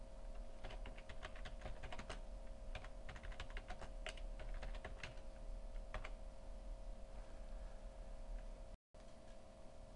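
Typing on a computer keyboard: quick, uneven clusters of light key clicks over a faint steady hum, close and clear, with no talking.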